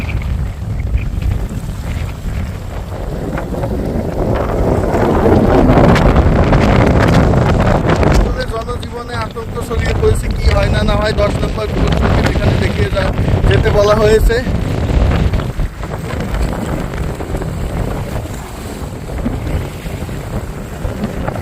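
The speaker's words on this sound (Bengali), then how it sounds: "আস্তে আস্তে বাতাসের পরিমাণ বাড়ছে এবং ঝিরঝিরি বৃষ্টি হচ্ছে আর প্রচুর বাতাস হচ্ছে আর ঢেউয়ের পরিমাণও বাড়ছে" Loud, gusting coastal wind roaring into the microphone during cyclone Remal on the Bangladesh shore, with waves churning beneath, the buffeting continuous and surging, while someone talks over it.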